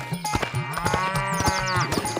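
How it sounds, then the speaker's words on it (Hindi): A buffalo moos in a long, deep, wavering bellow that rises and falls, loud and close, with a short sharp knock at the very end. "भैंस को देखकर गेंदा सेठ की पत्नी बोली, अरे ये तो रोंदू की भैंस राम प्यारी है"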